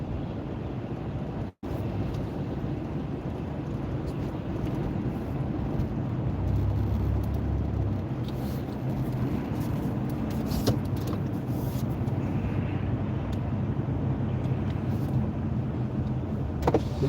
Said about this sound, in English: We got a lot of traffic here